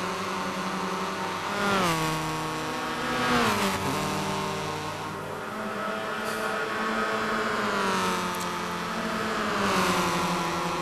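Race cars in a video game tear through a corner on the Tokyo R246 circuit, engines whining as they rise and fall, with several swells as the cars brake, shift and accelerate away.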